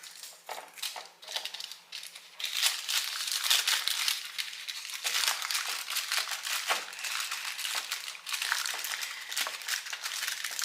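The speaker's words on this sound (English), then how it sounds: "I'm gonna lift that foil to help me to start it. I'm gonna press it in there." Aluminium foil crinkles and rustles as a warm Krispy treat with Nutella is rolled up and pressed, a near, continuous crackling that starts sparse and thickens into steady crumpling.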